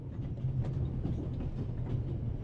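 Moving train in the video game The Raven, a steady low rumble with faint rhythmic clatter from the wheels, continuous and fairly close throughout.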